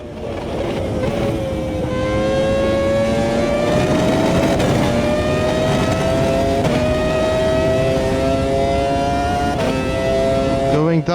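A racing car engine in the video game Automobilista 2 whines steadily at high revs, pitch climbing gradually through the gears, loud and continuous with some speech underneath.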